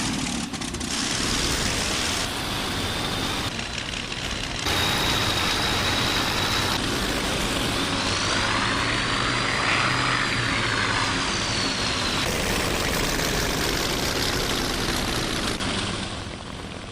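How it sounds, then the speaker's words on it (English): Aircraft engines run loudly and continuously nearby, a broad droning roar with shifting whine and propeller buzz that holds for the whole stretch. "My engine at once thunders into life. I turn to watch the others starting."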